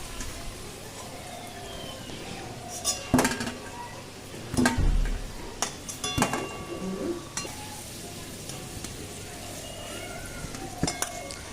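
Potatoes fry in oil in a kadai for mutton curry, a soft steady sizzle with occasional clinks and scrapes of a ladle against the pan.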